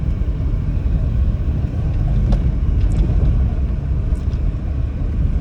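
Suzuki 800 car driving in third gear, a heavy low engine and road rumble from inside the cabin, with a few faint rattles and clicks over it.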